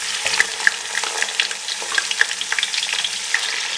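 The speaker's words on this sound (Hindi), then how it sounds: "चिकन को हम 2 से 3 मिनट के लिए अच्छे से फ्राई कर लेंगे" Chicken frying in a pan with browned onions for Kabuli pulao, a steady near sizzle with scattered crackles and light spatter running throughout without speech.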